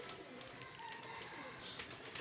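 Pigeons cooing in a rooftop loft, soft low coos faintly heard over a quiet, steady outdoor background for a couple of seconds.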